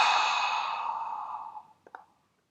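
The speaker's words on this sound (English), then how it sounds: "taking a deep breath in, inhale, and release" A single long, breathy exhale fades out over about two seconds, close to the microphone, ending with a couple of soft mouth clicks and then silence.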